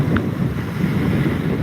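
Strong wind blows by the ocean, pushing a loud, continuous roar and buffeting into the microphone while surf rolls underneath, with no talking.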